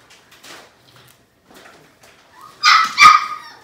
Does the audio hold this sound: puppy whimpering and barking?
yes